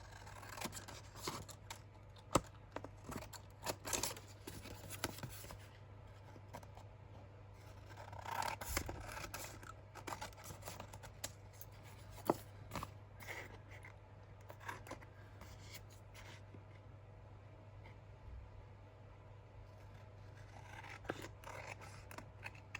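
Scissors trimming paper scraps for a junk journal, faint, close snips and rustling paper scattered irregularly over a quiet background hum, with no talking.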